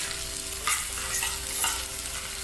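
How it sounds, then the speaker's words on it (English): A fork mashing a cheese mixture in a pan against a steady sizzle of frying onions, with a few louder scraping pushes in a continuous close, frying bed. "we're just like mushing it all together basically"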